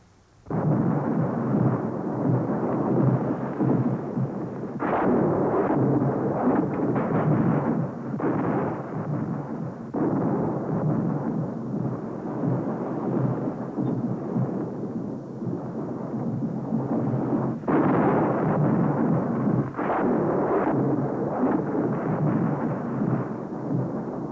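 Thunder rolls on and on, a loud, sustained rumble broken by several sharper cracks, with no voices over it.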